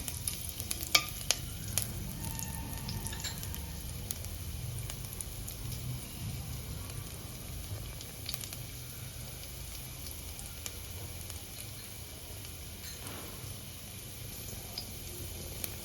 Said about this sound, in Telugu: ముందుగా దాంట్లోకి సన్నగా కట్ చేసి పెట్టుకున్న వెల్లుల్లి యాడ్ చేసుకోవాలి అవి కొంచెం వేగనివ్వాలి